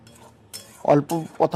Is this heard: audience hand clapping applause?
no